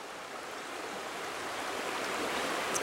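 Mountain creek water flowing, a steady soft rushing wash that builds slightly, fairly faint and alone with no voices.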